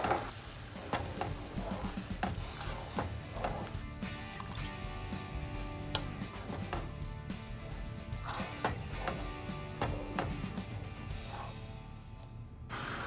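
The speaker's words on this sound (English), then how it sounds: "I'll then give it a very good stir, then allow it to simmer." A pot of bean stew with blended vegetables being stirred, with scraping and clinking of the spoon over a soft sizzling bubble, no talking.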